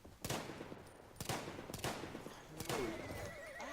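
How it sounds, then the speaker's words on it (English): A horse whinnies several times in sharp, loud bursts, each ending in a wavering tail, with faint rustling between. "Horse."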